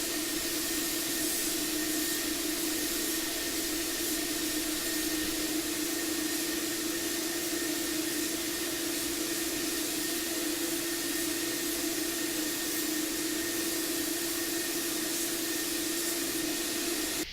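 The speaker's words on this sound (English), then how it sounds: "We will be spraying a second coat on this" A spray gun lays a second coat of black paint over black with a steady, even hiss that runs unbroken at close range, alone, with a constant tonal hum underneath.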